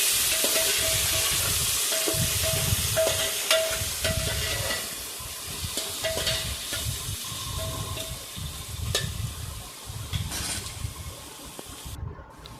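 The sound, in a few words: chopped onion being mixed and sautéed in a pan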